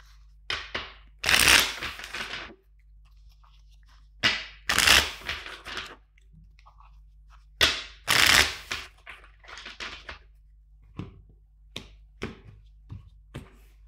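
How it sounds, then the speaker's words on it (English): A deck of tarot cards being shuffled in several quick riffling bursts, separated by short pauses and soft taps, close and fairly loud. "First, let's shuffle five times the deck for you."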